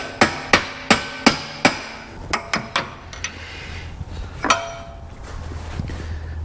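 A small hammer strikes metal in a quick series of ringing blows, about a dozen taps in bursts, loud and close.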